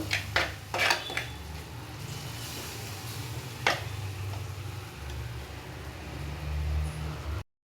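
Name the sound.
mixing egg bhurji masala in a pan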